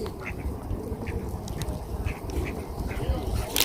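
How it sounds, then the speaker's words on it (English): Ducks quacking at a park lake during bird feeding, a steady run of close, overlapping quacks with people talking over them throughout. "Look, the little ducks are coming."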